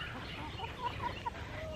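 Hens clucking softly at a distance on a small farm near a hoophouse, a few short clucks over a low outdoor background.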